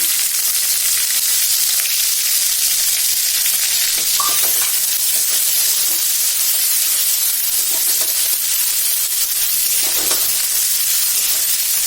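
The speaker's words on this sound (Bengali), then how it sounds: "এবার আমি পেঁয়াজ রসুন ফোড়ন দেবো" Onion and garlic tempering sizzles steadily in hot oil for kochur loti, a dense continuous frying hiss with faint stirring clicks throughout, no voices.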